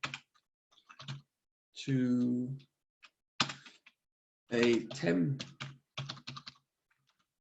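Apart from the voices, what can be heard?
typing on a computer keyboard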